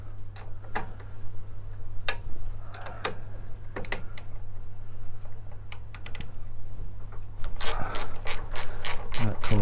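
Ratchet spanner on a 6mm nut while fitting pannier brackets to a Triumph Thruxton R motorcycle, giving quick bursts of sharp clicking, close and crisp, faster toward the end over a steady low hum.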